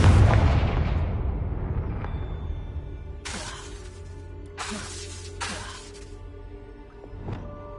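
A fiery spell bursts in Hogwarts Legacy with a big booming blast at the start that rumbles away, followed by several crackling, shattering bursts of debris and scattered clinks, all close.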